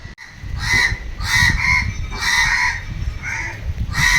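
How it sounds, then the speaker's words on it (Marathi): Crows caw loudly and repeatedly nearby, about five harsh bursts in a loose rhythm. "त्याला खाऊ सापडला तर सगळे कावळे गोळा करतोय"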